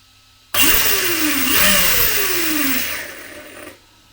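The electric motor of an RC model car bound to a Futaba T7PXR transmitter whines up sharply on throttle, rising and falling in pitch through two revs before cutting off, loud and close.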